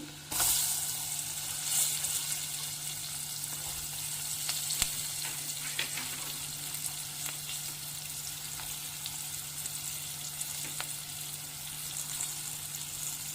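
Sliced onions and green chillies fry in oil with turmeric, giving a soft, steady sizzle with occasional faint clicks of stirring throughout, over a low constant hum.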